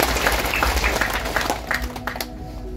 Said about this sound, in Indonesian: Mari kita tepuk tangan untuk suster.